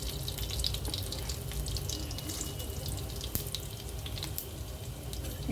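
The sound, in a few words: whole spices sizzling in hot oil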